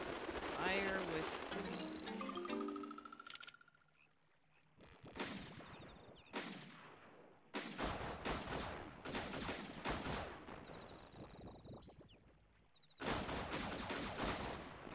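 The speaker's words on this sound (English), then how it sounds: "So you just aim and then hit B to shoot." Gunfire sound effects from the Wii Play shooting video game, with dense rapid volleys of electronic shots and bursts coming in separate clusters, plus chimes and game music between them, moderately loud.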